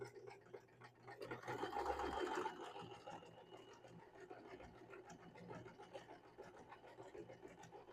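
A sewing machine runs quietly at stitch length 2 with Coats and Clark thread and a 90/14 needle, sewing a dish drying mat into a water bottle cover, with a soft rapid rattling hum that swells briefly and then settles.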